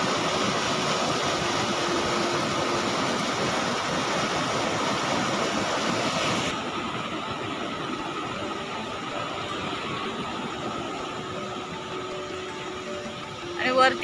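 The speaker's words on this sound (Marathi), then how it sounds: "पाण्याचा खळखळता आवाज बघू शकता।" A swollen river rushing past a dam under rain makes a loud, continuous broadband roar that softens somewhat midway but keeps churning steadily to the end.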